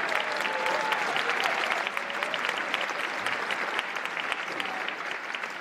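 Warm applause from the audience at a symphony orchestra holiday pops concert, many hands clapping steadily in a large hall, tapering slightly as it goes on.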